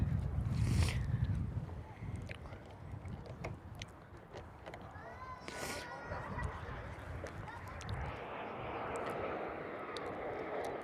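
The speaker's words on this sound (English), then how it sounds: "And Qantas 10 in from London Heathrow today." A Qantas airliner arriving at Perth from London Heathrow, its distant jet roar swelling and fading under people chatting nearby, with some wind noise.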